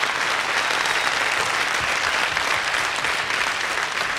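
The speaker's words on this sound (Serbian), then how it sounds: "Molim vas, aplauz stvarno za ovog hrabrog momka." Sustained applause from a studio audience at a live television show, a steady dense wash of clapping that holds evenly from start to finish with no voices over it.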